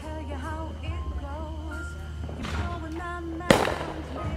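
Fourth of July fireworks burst and crackle amid a festive outdoor gathering, with a sharp loud bang near the end standing out over a busy background of voices and music-like tones.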